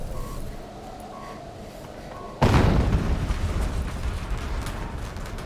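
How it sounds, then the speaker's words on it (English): A sudden loud explosion in the video game Horizon Zero Dawn Remastered on PS5 bursts in after a quiet stretch with faint beeps, then leaves a sustained rumbling roar. "An explosion."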